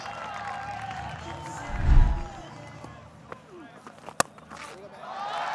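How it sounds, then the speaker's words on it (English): Cricket crowd at a Pakistan vs Sri Lanka one-day international cheering a boundary, a brief swell of distant stadium noise rising and fading under steady background murmur, with a sharp clap or crack near the end. "Been a while since the crowd had a boundary to cheer for."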